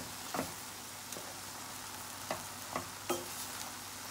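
Ground meat with chopped garlic and thyme frying in a pan, a soft steady sizzle broken by several light scraping stirs, close and fairly quiet, no talking.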